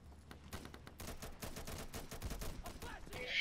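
Gunfire from the tactical shooter Insurgency: a rapid run of sharp shots that builds toward a loud, dense burst at the end, with faint talk mixed in.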